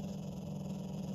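A dog gives a low, continuous growl, faint and steady throughout with no voices over it.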